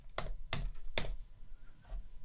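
Four crisp keystrokes on a computer keyboard type a short command into MATLAB, each tap close and distinct with brief gaps between them, the last one coming after a longer pause.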